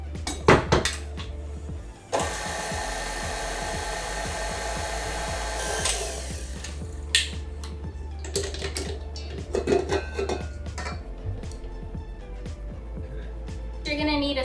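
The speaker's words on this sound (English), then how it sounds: "add all your dried ingredients into the mixing bowl, and you're just gonna briefly whisk it" A whisk rattles and clinks through dry cupcake ingredients in a mixing bowl, with a sustained stretch of fast scraping followed by scattered taps against the bowl.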